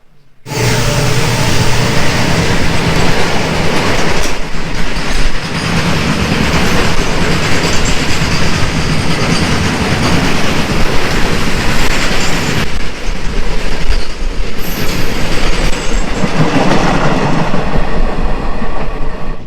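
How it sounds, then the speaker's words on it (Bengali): A special passenger train travelling from Guwahati to NJP pulls away from Gauripur station after a long halt, producing a loud, continuous rumble with rattling carriages and clickety-clack from the wheels, heard from on board. "আমাদের ট্রেনটি এখন আবার ছাড়লো"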